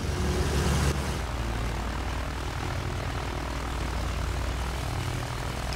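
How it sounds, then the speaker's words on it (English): A bomber's propeller engine drones steadily in Battlefield 1 at a moderate, even level throughout, with a short burst at the start and no talking. "I'm gonna fly a bomber."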